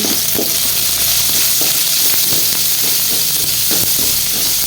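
Pea shoot greens with green chillies, garlic and salt stir-fry in a hot pan, a steady close sizzle with irregular scrapes and taps of a spatula turning the food, no voices.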